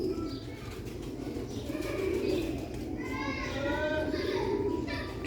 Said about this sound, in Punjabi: ਹਾਈ ਕੁਆਲਿਟੀ ਦੇ ਪਰਿੰਦੇ ਨੇ।